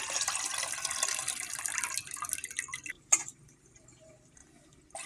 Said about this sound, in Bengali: মাংসগুলো ধুয়ে নেবো।